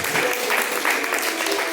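A church congregation at a live service applauds in praise of God, a short, dense and steady wash of clapping with voices faintly mixed in.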